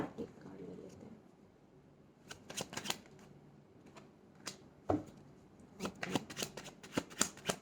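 Tarot cards being shuffled and drawn during a love reading, heard as repeated crisp riffling bursts and flicks that come in clusters, close and moderately loud, with quiet pauses between them.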